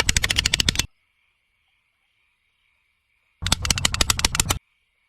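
Staple gun driving rapid bursts of sharp metallic snaps while securing camouflage fabric to wooden posts outdoors, two close, loud clusters of quick repeated clicks separated by quiet.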